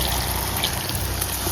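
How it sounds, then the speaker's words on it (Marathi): Water pours steadily into a pan of brinjal curry during traditional home cooking, a continuous close gushing and splashing with no pause and no voices. "आता ह्याच्यात मी पाणी घालते."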